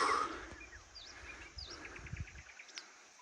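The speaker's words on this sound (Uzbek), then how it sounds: "Sayrasini qaranglar." Faint birdsong rises in a mountain forest by a village among rocks and juniper, a few thin whistled notes and a rapid chirping trill against quiet outdoor background with some soft rustling.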